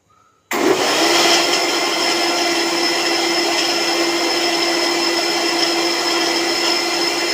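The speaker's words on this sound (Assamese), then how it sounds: "এতিয়া এইখিনি মিক্সিত দি ল'ম।" An electric mixer blending a fruit milkshake switches on abruptly after a brief quiet moment, then whirs loudly and steadily at a high, constant pitch until the end.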